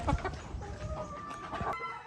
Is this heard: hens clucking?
yes